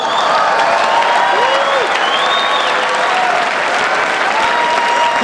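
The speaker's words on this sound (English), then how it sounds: "Give them a round of applause." A large audience at the White House Correspondents' Dinner claps in dense, steady applause, loud and continuous throughout with no break.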